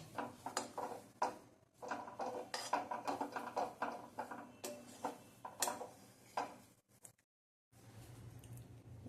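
A spoon stirring and scraping suji halwa in a pan, with soft irregular clinks and scrapes in a quick uneven rhythm, faint and close, followed by a short pause.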